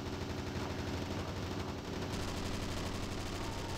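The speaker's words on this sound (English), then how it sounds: "I'm shooting faster." Rapid, sustained automatic gunfire from a first-person shooter, a dense, continuous rattle of shots at a fast steady rate, fairly quiet and unbroken for several seconds.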